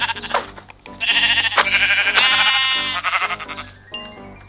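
Sheep bleating in the video game Minecraft, several quavering bleats in quick succession, loud and close over a low background drone.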